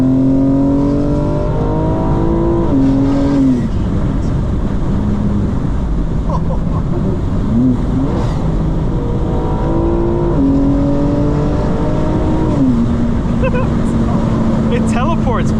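A rear-wheel-drive car accelerates hard, its engine note climbing through several gear changes with drops in pitch between them, loud and continuous, heard from inside with voices talking over it.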